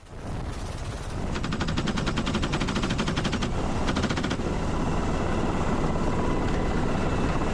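A military helicopter's steady rotor roar with rapid door-gunner machine-gun bursts firing over it, loud and close, during RIMPAC exercises.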